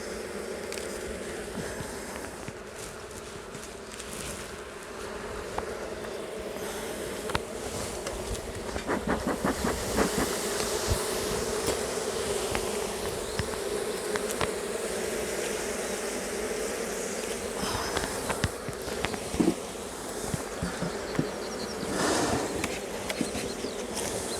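Honey bees buzz densely around an open queenless colony hive in a UK apiary, a continuous close humming swarm with brief louder passes of individual bees near the listener.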